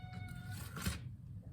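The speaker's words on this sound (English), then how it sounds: "you can hear the cat in the background." A quarantined cat meows faintly in the background of a workshop where a cigar box guitar is being built, giving a soft, short, distant cry over low room noise.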